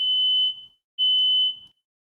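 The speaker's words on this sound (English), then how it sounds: "Smoke detectors The fire alarm, Hugo." A smoke detector sounds two long, piercing, steady high beeps separated by a brief silence, loud and close with nothing else around.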